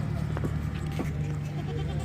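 A heavy male goat bleats a couple of short times over a steady low hum at a livestock market in Karachi, fairly close by.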